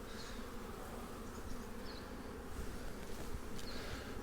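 A steady, dense buzz of many honeybees fills the air around the hive, continuous and fairly close, with no talking.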